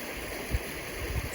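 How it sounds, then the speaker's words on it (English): An icy creek with ice along its banks flows slowly outdoors on a snowy trail, giving a steady, soft rushing wash of water with a couple of faint low thumps and no talking. "You can see the beautiful creek here."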